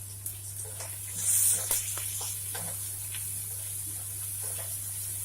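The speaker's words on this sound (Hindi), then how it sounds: "प्याज भून लें हल्का ब्राउन होने तक" Chopped onions sizzling in a hot pan over a low flame for Indori poha, a steady close frying hiss with a louder burst of crackle and faint stirring clicks.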